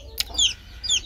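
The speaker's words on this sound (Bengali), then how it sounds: "দেশি মুরগির বাচ্চা," Native chicken chicks peep in two quick, high-pitched chirps, close by, over a low background hum.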